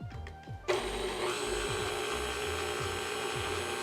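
An electric hand mixer creams the wet mixture for banana bread, switching on abruptly and then whirring steadily and loudly with a dense mechanical buzz to the end, with no talking.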